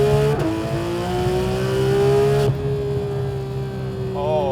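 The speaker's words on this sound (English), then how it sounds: "Savage downshift." A modified Porsche 911 GT3 RS (991.2) engine roars at high revs, then drops sharply with a downshift blip and continues roaring nearby.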